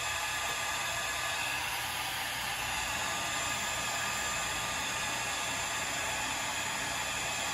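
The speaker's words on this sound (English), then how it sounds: "Hairdryer is running." A hair dryer running off a battery bank through a transfer switch produces a constant, even hiss and whine, close and unbroken throughout, with no speech.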